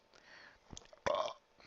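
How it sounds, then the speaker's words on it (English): A man lets out a single short, loud burp after setting an empty bottle down in a bar, preceded by a few faint knocks and rustles. "Han put his empty bottle on the table and burped."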